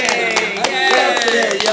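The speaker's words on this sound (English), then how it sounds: "Man, I can clap for that." Several people clap their hands together in a loose, uneven patter of sharp taps, fairly close, running under and between conversational voices.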